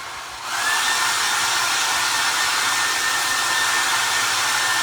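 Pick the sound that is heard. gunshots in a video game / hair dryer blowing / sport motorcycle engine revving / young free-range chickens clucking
hair dryer blowing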